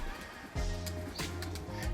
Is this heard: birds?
yes